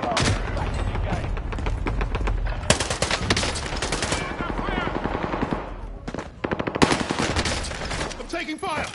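Rapid machine-gun bursts and scattered gunshots from a PS4 battle game crackle densely and almost continuously, with short pauses between volleys and voices occasionally under the fire.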